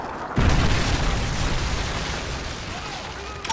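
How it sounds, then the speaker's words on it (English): A Predator missile explosion in Modern Warfare 3 hits as a sudden loud boom, then rolls on as a long, dense rumble that slowly fades over several seconds. "Friendly Predator missile inbound."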